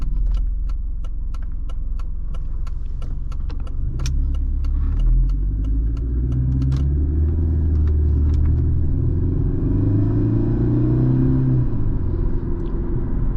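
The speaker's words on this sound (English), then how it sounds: "Supercharger makes a very pleasant spooling noise." Supercharged engine of a 2005 Mercedes-Benz C230 Kompressor W203 on the move, heard from inside the cabin: a steady low rumble that rises and swells with rising whine-like tones, joined early on by rapid ticking clicks.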